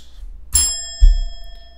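A little bell chime on an online chess site during blitz play, two bright ringing tones about half a second apart, the second lower and fuller, with sustained overtones decaying over faint background hum.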